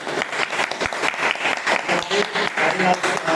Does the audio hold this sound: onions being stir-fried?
no